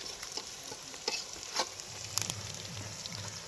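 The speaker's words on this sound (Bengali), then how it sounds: "ভালোভাবে ভাজা হচ্ছে।" Onion and garlic frying in a pan at an outdoor farm picnic, with a steady close sizzle, occasional stirring scrapes and light spatter bursts, no voices.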